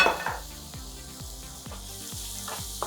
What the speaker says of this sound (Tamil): இதில் ஒரு வெங்காயத்தை பொடியாக நறுக்கி சேர்த்துக்கிறேன்